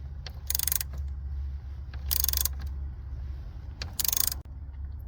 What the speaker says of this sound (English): So what I will do, I will remove this nut, and that should help me out.